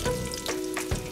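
Sliced ginger stir-fries in black sesame oil in a flat pan, a close, steady sizzle with soft scraping and stirring strokes over a little over a second.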